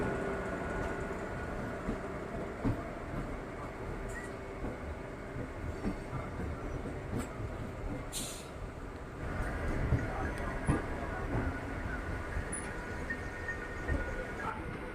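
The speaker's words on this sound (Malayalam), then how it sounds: "നമ്മുടെ ട്രെയിൻ ഇപ്പോൾ ഇതാ മെയിൻ ലൈനിൽ നിന്ന് മാറി നമ്മളിപ്പോൾ ഇതാ കോളാർ ലൈനിലോട്ട് തിരിഞ്ഞുകൊണ്ട് നിൽക്കുകയാണ്" A train rolls steadily as it turns off the main line onto the Kolar line near Yelahanka Junction, a continuous rumble of wheels and carriages heard from on board with a few metallic clicks and a brief squeal partway through.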